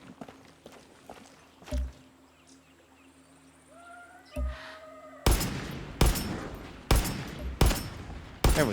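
Gunfire in the video game Far Cry 6, with quiet footsteps and ambient game sounds first, then several loud bursts of shots close by in the second half.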